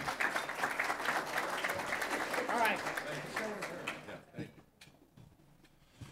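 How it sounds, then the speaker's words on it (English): A ceremony audience claps for a speaker being introduced at an Illinois National Guard ChalleNGe Academy event, dense steady applause that fades out after about four seconds, leaving a quiet room with a few stray claps. "Let's give her a round of applause"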